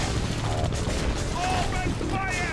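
Dense gunfire from battling units in the strategy game Red Alert 2: Yuri's Revenge, with rapid overlapping shots and bursts that stay loud and steady and are mixed with short voiced unit responses.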